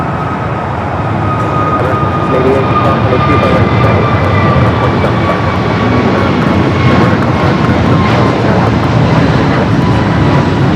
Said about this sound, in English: Next takeoff here in the south is American flight 3194 heading to Chicago here in an A321neo